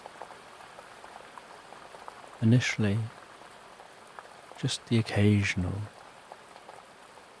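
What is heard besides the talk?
rain striking water of a loch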